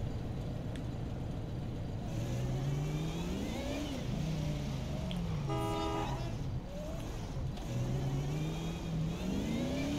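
A car engine revs and accelerates in GTA 5, climbing in pitch several times with gear-change dips, and a brief horn toot sounds midway.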